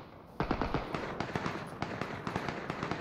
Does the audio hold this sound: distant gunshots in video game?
yes